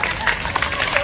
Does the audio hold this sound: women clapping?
yes